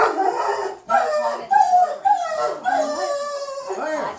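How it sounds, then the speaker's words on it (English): A dog barks and howls in loud, repeated bursts close by, its yelping calls rising and falling over about four seconds, with a person speaking faintly underneath. "stop barking!"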